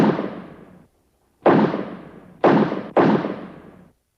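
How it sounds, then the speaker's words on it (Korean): Four loud gunshots ring out in a downtown Seoul street. Each sharp crack is followed by a long echoing decay; the first stands alone and the last three come close together. "서울의 중심가에서 울린 네 발의 총성"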